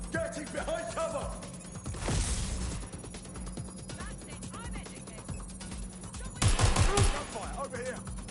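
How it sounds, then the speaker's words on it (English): Bursts of automatic gunfire and single shots crackle in the video game Watch Dogs Legion, rapid volleys near and far, with in-game voices shouting over the firefight and occasional thuds. "Gunfire, over here!"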